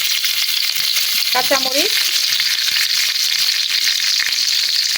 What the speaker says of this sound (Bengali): সয়াবিন তেলটা গরম হয়ে গেলে দিয়ে দিব দারচিনি, এলাচি